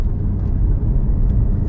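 A 2021 Porsche Cayman GT4 being driven while warming up gives a steady, loud engine rumble that holds fairly even throughout, heard from close by with no speech.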